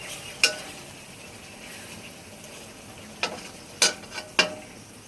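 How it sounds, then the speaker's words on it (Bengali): Rohu fish curry with garam masala is stirred in a pan: a few sharp spoon scrapes and clinks, some in quick succession, over a faint, quiet simmer. "ভালোভাবে নেড়ে নেব।"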